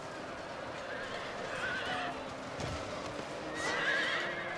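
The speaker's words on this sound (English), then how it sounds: "Cavalry has struck the enemy over here." Cavalry horses charging in a Total War video game battle, with neighing and whinnying over a constant rumble of clip-clopping hooves and distant battle din, no speech.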